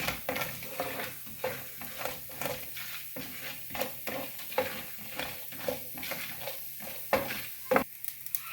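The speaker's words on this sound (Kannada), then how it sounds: "ಸಾಸಿವೆ ಉದ್ದಿನಬೇಳೆ ಕಡಲೆಬೇಳೆ ಹಾಕ್ಕೊಂಡಿದ್ದೀನಿ ನೀಟಾಗಿ ಮಿಕ್ಸ್ ಮಾಡ್ಕೊಂಡಿದ್ದೀನಿ ಸ್ವಲ್ಪ ಬ್ರೌನ್ ಆಗಲಿ" Mustard seeds, urad dal and chana dal fry in hot oil as a spoon stirs them, giving a steady close sizzle broken by repeated scraping strokes against the pan, with no voices.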